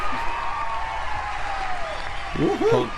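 Audience applause rolls on as a broad, moderate wash of clapping and crowd noise at a horror convention panel, with a voice speaking over it near the end.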